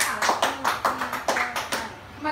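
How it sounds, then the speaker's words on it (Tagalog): A group claps in unison, sharp rhythmic claps landing in a quick even beat, fairly close and loud, with a voice speaking over them. "bigyan natin ng 5 palakpak ang ikalawang pangkat."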